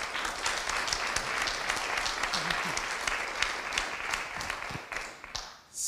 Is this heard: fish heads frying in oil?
no